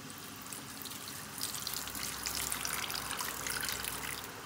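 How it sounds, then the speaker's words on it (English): Water pours steadily into a pot, a soft splashing gush that grows a little fuller midway, with no voices. "I will add more water."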